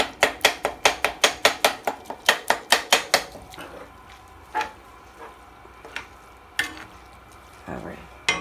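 Spoon stirring breadcrumbs into ground meat seafood stuffing for stuffed bell peppers, a quick run of about fifteen sharp rhythmic clinks against the bowl, then a few slower scattered knocks.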